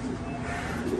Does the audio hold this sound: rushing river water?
no